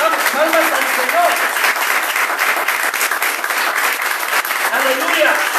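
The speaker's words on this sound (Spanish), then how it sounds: "Vamos, palmas al Señor." A church congregation claps together in steady, dense applause during a worship service, loud and continuous throughout, with brief sung or voiced tones rising over it.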